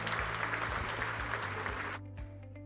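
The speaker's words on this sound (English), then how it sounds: "You actually deserve a standing applause from yourselves for that." Audience at an annual day of learning event applauding loudly and densely, with the clapping cutting off abruptly about two seconds in, leaving a low hum and a few faint sounds.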